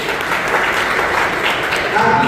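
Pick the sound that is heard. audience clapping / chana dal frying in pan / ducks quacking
audience clapping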